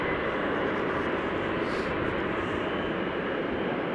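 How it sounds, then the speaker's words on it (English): GE90 jet engines spool up on a widebody airliner at Amsterdam Schiphol Airport, a loud, steady broadband roar filling the whole span without a break. "GE90s starting up"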